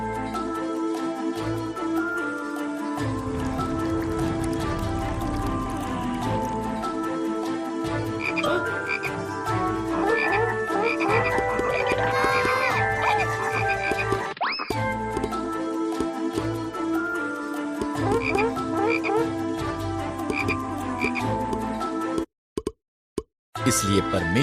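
A dense chorus of frogs croaks continuously, layered rhythmic calls blending with music and a voice speaking over them, before a brief break near the end.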